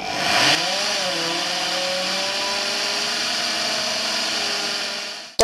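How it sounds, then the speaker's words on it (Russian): A power drill whines steadily at high speed, its motor pitch dipping slightly under load at the start, then holding constant until it stops. "Давно дрелью не сверлил, все станочком сверлильным. Но ничего, просверлим."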